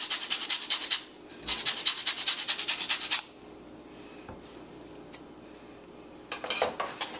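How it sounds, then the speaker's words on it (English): Orange zest is grated, producing close, rhythmic rasping strokes in fast bursts with a quiet pause in the middle before a final short run of scraping. "I'm just going to grate in some of that orange zest in here"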